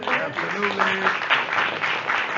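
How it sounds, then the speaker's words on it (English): Applause at a Cincinnati city hall African American Chamber gathering, honoring a council member. Steady crowd clapping runs the full length with a faint voice underneath, moderately loud and close. "Round of applause."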